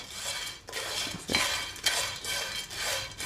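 Trifala spice dry-roasting in a pan for garam masala, a steady close scraping and rattling as a spoon or spatula stirs the dry pods against the metal, in repeated strokes.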